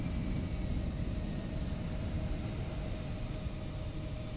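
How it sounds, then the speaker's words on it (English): Steady broadband roar of E175 thrust reversers and braking just after touchdown in X-Plane 12, a loud continuous rumble with a faint tonal whine riding on top, with no voices. "Our reverser's out."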